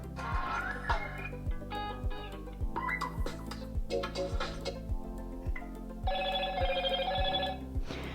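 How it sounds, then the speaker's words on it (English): Several different Motorola Razr ringtones play one after another, each a short melodic chiming pattern over a repeating low beat, heard clearly with no talking. "here you have a few different options of ringtones"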